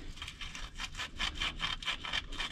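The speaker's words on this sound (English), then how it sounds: "I just tooled around here real quick with a light piece of sandpaper that's all worn out" A worn, light piece of sandpaper scrubs back and forth over a metal part of a Meyer C8 snow plow near its seal, giving quiet rhythmic rasping strokes, about eight in quick succession, close up with no talk.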